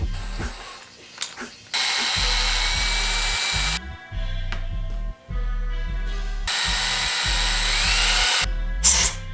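A power drill bores a hole into a deer antler for rattling antlers, running in several loud, close bursts broken by short pauses, with a grinding, ratcheting edge as the bit bites into the antler.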